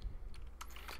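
Brief burst of computer keyboard keystrokes while an IP address is entered, a few quick faint clicks close up in a quiet room.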